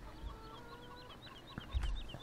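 A rooster in the Farming Simulator 17 game clucks in a quick series of repeated calls over a low ambient game background, with a soft thump near the end.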